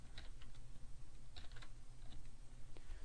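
Keys tapped on a computer keyboard in quick irregular bursts, fairly faint over a steady low background hum with no voices.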